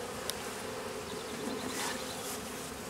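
Honey bees buzz in an 8-frame Langstroth medium box with a swarm being installed, a dense continuous droning hum heard up close, with no talking.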